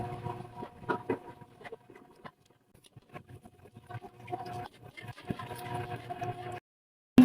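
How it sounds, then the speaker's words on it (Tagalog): Minced garlic stirred continuously in hot oil until golden brown for a chili garlic oil topping, with a steady busy crackle of frying broken by scraping stir strokes and short pauses. "at imikas-mikas mo na nga yan, insan. Huwag kang tumigil hanggang sa hindi mag-golden brown yung garlic natin"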